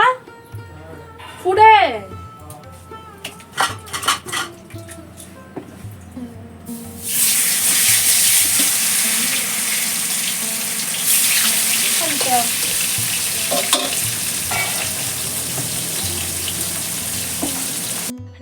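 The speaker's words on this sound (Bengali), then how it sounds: "এখানে মাছ ভাজা বসিয়ে চলে আসলাম" Fish frying in a pan on a home clay stove, with a sudden steady hissing sizzle that starts partway through and continues under a few brief voices and clatter.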